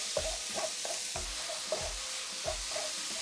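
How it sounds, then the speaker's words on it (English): Cherry tomatoes and garlic with a pinch of salt sizzling in a pan, a faint hiss under a regular series of soft knocks and scrapes as the pan is worked. "So pop them into the pan"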